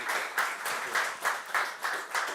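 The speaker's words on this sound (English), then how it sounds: "So a big clap to you guys." A small audience applauds an incubator team at a healthtech kick-off ceremony, with steady clapping that swells in repeated bursts about every half second, moderately distant and with no voices over it.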